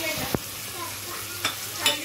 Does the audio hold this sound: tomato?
yes